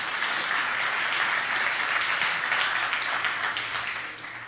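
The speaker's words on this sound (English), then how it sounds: "Round of applause for our customers who are in the room." Audience at the CDI NYC Tech Summit 2022 keynote breaks into dense, sustained applause, a loud even roar of many hands clapping that tapers off near the end.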